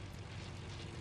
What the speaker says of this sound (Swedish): Jag hör flygplan.